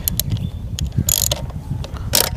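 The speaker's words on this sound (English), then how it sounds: "3/8 inch ratchet will just help me." A 3/8 inch ratchet works on a 1988 Evinrude 200 hp V6 outboard motor, giving a few short metallic clicking bursts close by, spaced irregularly over a low background hum.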